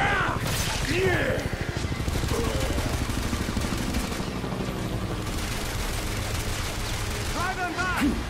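Sustained rapid gunfire in the video game X-Men Origins: Wolverine, dense bursts of shots continuing throughout with voices shouting over the barrage.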